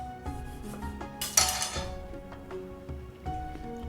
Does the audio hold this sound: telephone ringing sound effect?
no